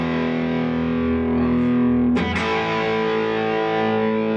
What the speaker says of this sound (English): I've got this killer full-tone distortion pedal